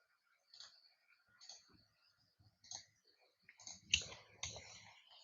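A computer mouse gives a series of sharp, close clicks, spaced irregularly at first and then tighter, in a quiet room with no talking.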